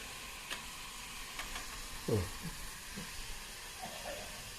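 Grated tender jackfruit stir-fry roasting in a hot pan, giving a soft continuous sizzle with a few scattered stirring scrapes and one louder clatter midway, close and quiet.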